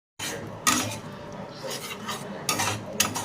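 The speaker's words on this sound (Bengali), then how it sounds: "গ্যাসের ফ্লেম লো রেখে আমি ভালো করে মশলাটাকে, দইয়ের মিশ্রণটাকে আমি ভালো করে কষিয়ে নেব।" A spoon scraping and clinking in a pan as yogurt mixture is stirred into spice masala over a low flame, a few close rasping strokes with light metallic taps and no talking.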